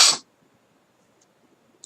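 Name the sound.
sneeze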